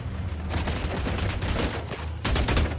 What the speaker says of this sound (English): Oh, they're apparently still shooting at me.